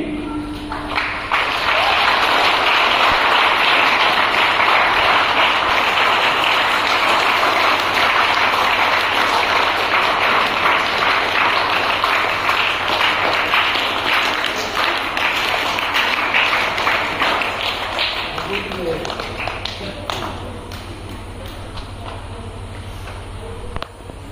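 A church congregation at a Chhipadohar parish welcome gathering applauds a newly installed parish priest, a long sustained round of dense clapping that stays loud for about twenty seconds before thinning out.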